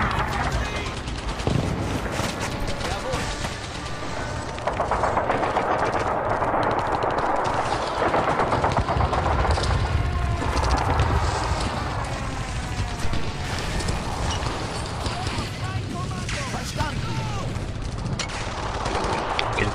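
Infantry gunfire in the Men of War video game as a counter-attack hits US infantrymen behind wrecked tanks: dense, continuous rifle and machine-gun bursts with heavy battle noise, loud and unbroken, with a voice talking over it.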